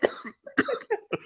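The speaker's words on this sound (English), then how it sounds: "Sorry for the coughing on the mic" Close, loud coughing straight into a microphone from someone still getting over an illness, several harsh bursts in quick succession with no talk.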